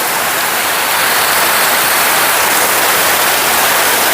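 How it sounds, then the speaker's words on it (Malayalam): Heavy rain pours down steadily around a house in Kerala, a dense, unbroken roar of falling water that holds at an even level from start to finish, with no voices over it. "മഴ തകർത്തു."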